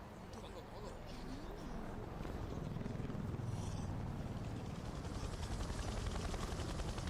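Low-flying helicopters give a steady, loud rotor drone and rumble that lasts through the whole stretch, with speech in the background.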